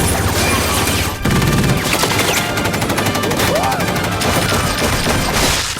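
Action-movie gunfire from the Team America puppet film, dense bursts of machine-gun fire and shots over a loud chaotic mix of crashes and score, with voices partly buried underneath.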